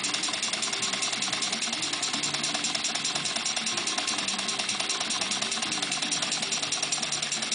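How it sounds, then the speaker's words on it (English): A small air-driven beam engine with a flyball governor runs slowly on low pressure, giving an even, continuous mechanical clatter of quick, regular ticks and rattles. "We'll crank it down here and make it go slow again."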